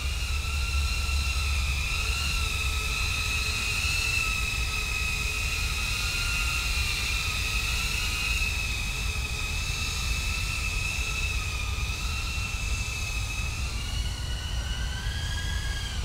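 Diatone Taycan 25 DUCT cinewhoop drone in flight, a steady high-pitched ducted-propeller whine with shifting tones over a constant airy hiss, sustained and fairly loud throughout with no talking.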